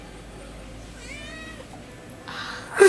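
A cat meows indoors, a single drawn-out tonal call in the middle, fairly faint against household room noise, followed by a louder rustle or clatter at the end.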